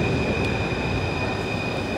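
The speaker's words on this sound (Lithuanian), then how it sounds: "Nu va, dabar atvažiuoja metro." A Paris metro train pulls into a station with a steady, dense rumble of wheels and carriages and a thin high whine running through it, fairly distant and even in loudness, with no voices.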